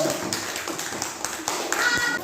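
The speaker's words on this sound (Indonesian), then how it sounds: "Tepuk tangan untuk kelompok 3." Students in a classroom clap for a student group, a loose, uneven patter of hands with scattered children's voices mixed in.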